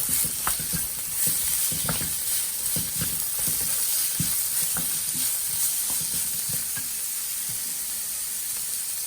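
Chili paste is mixed into hot-and-sour soup in a pan, with a constant hiss of steam and sizzle and irregular stirring clinks and scrapes, close and without talk.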